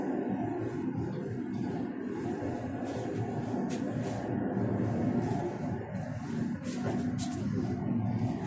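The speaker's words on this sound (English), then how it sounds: "That sounded like the rumble of a northbound Line 1 train." A northbound Line 1 subway train rumbles steadily underground, a low, fairly faint continuous roar with a few sharper rattles layered on top.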